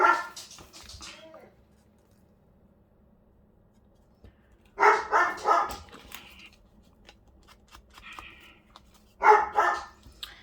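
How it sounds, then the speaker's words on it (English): A big dog barks at children walking past, in three separate bursts of loud barking with a few whimpering yips between them and quiet pauses in between. "he'll be barking at all the little ones walking past"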